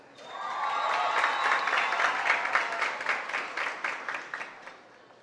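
A crowd at a regional oratory competition in Veraguas, Panama, breaks into applause that swells quickly, holds steady for several seconds, then thins into scattered claps and fades out.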